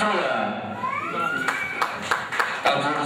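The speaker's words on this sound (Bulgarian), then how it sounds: "Аплодисменти за него." Scattered hand claps ring out at a christening celebration in a village hall, a few sharp claps over a murmur of voices and chatter, with people talking throughout.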